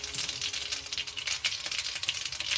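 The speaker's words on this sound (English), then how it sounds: "we're going to add the mustard seeds, and you can hear them spluttering" Mustard seeds splutter and pop in hot ghee in a pan, a dense, crackling sizzle of quick irregular pops at moderate loudness with no voices.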